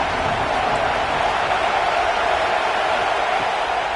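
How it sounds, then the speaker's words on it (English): Large stadium crowd at a football game roaring steadily on a third-down defensive play, a dense, loud, unbroken wash of cheering with no distinct voices standing out. "Decibels rising as the crowd gets behind this defense on third down."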